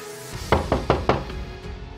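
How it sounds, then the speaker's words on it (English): Four firm knocks land on a door in a quick, even sequence, each one sharp and close, followed by a brief quiet with no speech. "Not long, I heard a knock on my door."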